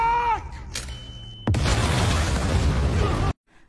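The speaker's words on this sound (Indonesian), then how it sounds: "Rumah tersebut meledak hingga menewaskan banyak pasukan." A tonal sound fades out, then a sudden loud explosion as a house blows up in a film, erupting into a sustained roaring rumble of debris before cutting off abruptly.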